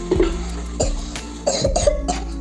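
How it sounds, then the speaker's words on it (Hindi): Several sharp coughs in a row, close and fairly loud, with short pauses between bursts and no talking. "मुझे खांसी हो गई"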